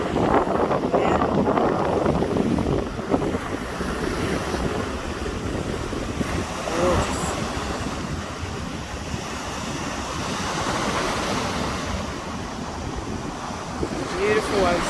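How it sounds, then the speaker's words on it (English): Ocean surf and gusting wind on a winter beach, a steady loud wash of breaking waves with constant wind buffeting the microphone, no talk. "Listen to the song of the ocean. You can probably hear the wind too, because it is blowy today."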